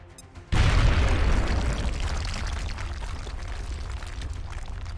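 A frag grenade goes off in the video game XCOM Enemy Within, a sudden loud burst with a deep rumble that fades slowly into a long, noisy tail.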